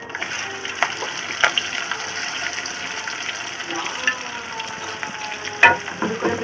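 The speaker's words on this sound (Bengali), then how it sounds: "তেলের ভিতরে পেঁয়াজ দিয়ে দিলাম।" Onions hit hot oil in a pan and sizzle steadily throughout, with a few sharp spatters and stirring clinks breaking through the continuous hiss.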